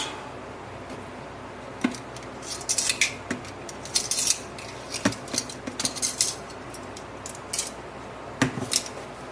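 Compost materials are scooped and stirred in a container, giving scattered light scraping, clinking and rustling taps in irregular bursts, close and fairly quiet, with no talking.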